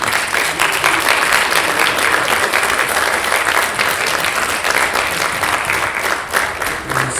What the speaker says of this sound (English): Can we give our mothers a round of applause?